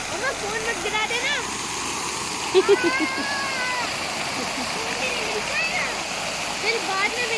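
Steady broadband rush of a waterfall at Jalajil, white water pouring continuously throughout, with voices talking over it and a brief louder splash near the middle.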